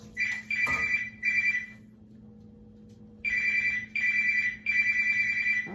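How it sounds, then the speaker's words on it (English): A telephone rings in repeated electronic trilling bursts, two groups separated by a short pause, loud and close in a home kitchen with nobody speaking. "the phone's ringing."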